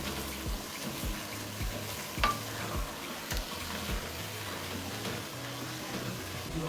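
Shrimp fry in oil and get stirred, a continuous close sizzle with repeated scraping and knocking strokes of a utensil at a loose rhythm, no voices over it.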